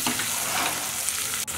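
Whole spices sizzle steadily and loudly in hot oil in a pan while green beans sabzi is being prepared, a dense, even crackle running throughout with one brief soft tap near the end.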